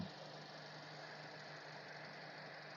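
A 2019 Toyota Yaris Ativ's 1.2-litre petrol engine idles steadily with a low, even hum. It stays quiet and unchanging throughout, with no voices.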